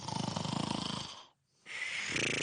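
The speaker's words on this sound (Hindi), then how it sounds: "इन्हें कहते हैं स्नोरिंग, यानी खर्राटे लेना" Loud, close snoring: rhythmic rasping breaths that cut off into a brief silence, then resume.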